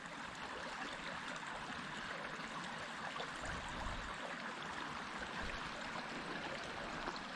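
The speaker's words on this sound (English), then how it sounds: "This stream has been going down through here for millennia." A stream ripples gently near the falls, a quiet, steady trickle and gurgle of water with no voices.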